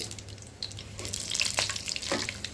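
Whole bay leaf, green cardamom, cinnamon, cloves and peppercorns frying in hot oil for a chicken, potato and jackfruit seed curry, a steady close sizzle with crackling spits and a brief stir, no talking.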